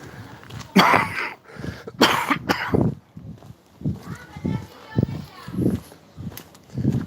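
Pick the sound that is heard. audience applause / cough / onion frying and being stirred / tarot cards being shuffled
cough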